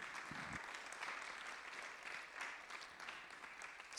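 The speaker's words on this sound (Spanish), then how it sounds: "¿Cuántos le pueden dar un aplauso al Señor?" A church congregation applauds together during a sermon, a broad wash of clapping that stays steady and moderately loud across the whole stretch, with a brief low thump near the start.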